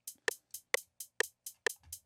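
Hi-hat pattern pushed off the grid, a bright hit followed closely by a second one in a flam, repeating evenly about every half second, dry and clear with nothing else playing.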